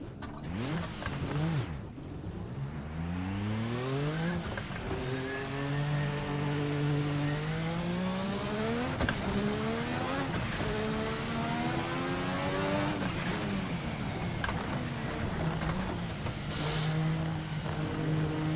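Formula RSS 1986 V6 race car in the Assetto Corsa sim, its engine revving hard with rising harmonic sweeps and abrupt drops at each clumsy gear change, loud and continuous throughout.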